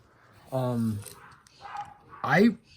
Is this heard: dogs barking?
yes